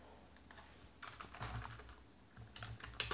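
A computer keyboard clicks under a faint, quiet tapping in uneven bursts while JavaScript code is typed, close up with short pauses between clusters of keystrokes.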